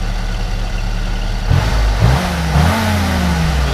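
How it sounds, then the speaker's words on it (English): A 1956 Willys Jeep CJ5 idles with a low rumble, then is revved in three short blips with rising pitch, loud and close, with no talking. "Go ahead and rev it up just a little bit."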